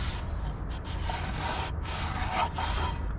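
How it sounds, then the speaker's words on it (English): A tool scrapes and rubs across the gasket surface of a Michigan loader engine in a series of close, gritty strokes with short pauses between them. The sound is fairly quiet. "Clean the gasket surface."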